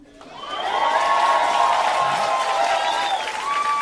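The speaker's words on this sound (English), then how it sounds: "every black person in here should be clapping" A stand-up comedy audience breaks into applause that swells within the first half second, then holds as sustained clapping mixed with cheering and crowd noise.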